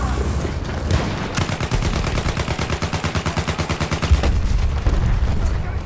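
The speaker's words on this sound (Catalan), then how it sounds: "estava disparant al nostre avió" Rapid automatic gunfire from a Battlefield video game match, a loud, steady burst of evenly spaced shots with a heavier blast near the end, set against continuous game noise.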